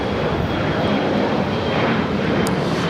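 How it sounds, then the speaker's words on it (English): An EVA Air passenger jet arriving from Taipei at LAX, heard as a steady, loud engine roar that is broad and unbroken for a few seconds, with no talk. "That is EVA Air Flight 12 coming up from Taipei."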